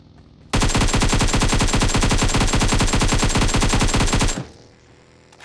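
Rapid automatic gunfire from a shooting video game rattles in one loud, close, continuous burst of evenly spaced shots lasting about four seconds, then stops abruptly into quiet background.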